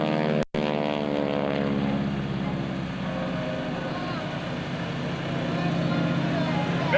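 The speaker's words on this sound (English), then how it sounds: "he'll be turning the T-6 around to bring it back in here" A T-6 propeller plane flying at the 2002 NAS Oceana airshow gives a steady, droning engine and prop hum that holds for several seconds and swells slightly near the end, with a commentator's voice faintly underneath.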